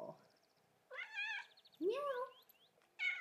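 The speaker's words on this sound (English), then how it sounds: "Meow." Indoors, a pet cat meows three times close by, drawn-out rising and falling cries spaced about a second apart, with quiet room noise between them.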